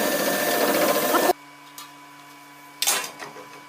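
A Profi 5 crimping machine set for decorative crimping, heard as a loud, dense mechanical clatter that stops abruptly and then returns as a shorter burst after a quiet pause.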